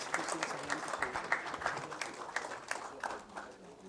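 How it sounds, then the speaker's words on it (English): Audience applause at a conference session, a steady round of clapping from a room of people welcoming panel guests, fairly close and sustained for a few seconds before tapering off. "let us welcome all these guests with a round of applause"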